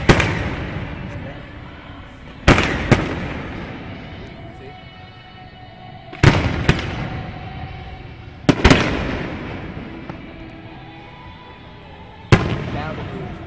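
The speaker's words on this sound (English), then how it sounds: "you see the light first before you hear the explosion." Post-game fireworks after a Phillies baseball game boom five times at irregular intervals, each a sharp loud crack that rolls off into a long echoing rumble, with faint crowd sounds underneath.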